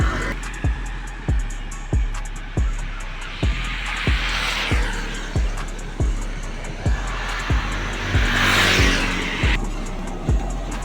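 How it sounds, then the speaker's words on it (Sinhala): A bus pulls up near a roadside stop, its engine loud and close with a steady rumble, a rising rush of air in the middle and another toward the end, and a regular rattling thump repeating roughly every second throughout. "ඔන්න guys බස් එක වෙලාවට ආවා."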